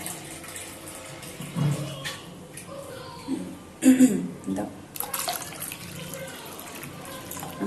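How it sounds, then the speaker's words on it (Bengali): Water runs into a bowl for cooking in a home kitchen, a soft splashing pour with a few louder gushes, while people talk nearby. "বাটিতে জল দাও"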